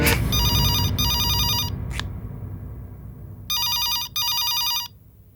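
A telephone bell rings indoors at home in two clear bursts of rapid electronic trilling, separated by a short gap, fairly loud and alone over a low background hum.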